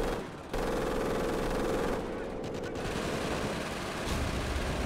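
Rapid machine gun fire in the video game Company of Heroes, a dense, continuous rattle of shots that fills the whole stretch, loud and close with battle noise underneath.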